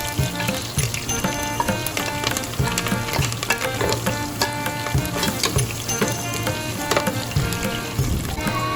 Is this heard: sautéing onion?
yes